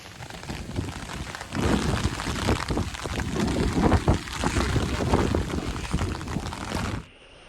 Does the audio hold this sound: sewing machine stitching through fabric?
no